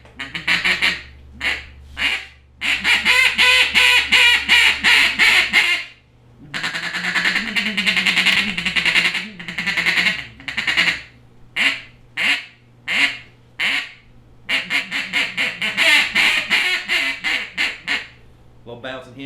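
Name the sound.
1909 Olt duck call playing feed chatter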